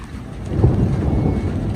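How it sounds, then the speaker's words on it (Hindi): Heavy rain pours outdoors from dark clouds, a dense low roar with wind-like rumble that swells slightly and stays constant throughout, with no voices. "कितनी तेज बारिश आ रही है यार उन बादलों से।"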